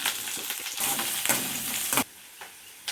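Sliced onions, crushed garlic and seasoning seeds sizzle loudly in hot oil during village-style brinjal fry cooking, a dense steady crackle with stirring scrapes that drops to a quieter hiss near the end.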